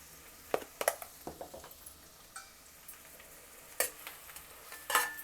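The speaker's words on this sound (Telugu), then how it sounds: "ఉల్లిపాయలు వేసి వేయించుకోవాలి, ఎర్రగా వేయించుకోవాలి" Onions frying in a pan for a Hyderabadi paneer curry, a soft steady sizzle broken by scattered clicks and scrapes of stirring, with a few sharper bursts near the end.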